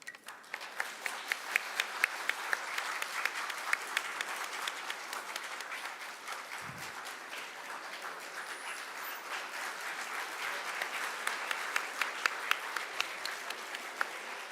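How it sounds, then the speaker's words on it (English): Sustained applause from a student audience at a law college workshop fills the whole stretch, a dense, even wash of clapping with crisp individual claps on top and no speech. "I would request students to give a big round of applause for all our esteemed guests and dignitaries and teachers present here."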